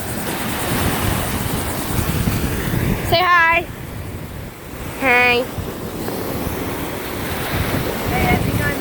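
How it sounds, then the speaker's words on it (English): Waves wash along an intracoastal waterway beside a beach, a continuous rushing surf that heavy wind buffeting the microphone blends into, with two brief voices cutting in. "Waves in the intercoastal."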